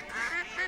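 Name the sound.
duck quacking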